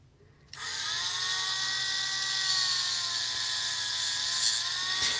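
The mechanism of a Trap Jaw action figure from the Masters of the Universe line is cranked, giving a sudden steady whirring, grinding drone that runs close and unbroken for several seconds with no talk.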